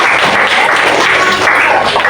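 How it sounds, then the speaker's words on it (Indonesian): Schoolchildren in a fifth-grade classroom clap briefly for a classmate, a short, dense burst of hand claps close by with no talk over it. "sekarang Om tepuk tangan dulu buat teman kalian."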